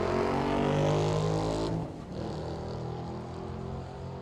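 A loud 5-liter drag racing car engine growls with a deep, harmonic exhaust roar that abruptly drops away, then a lower steady drone continues in the distance.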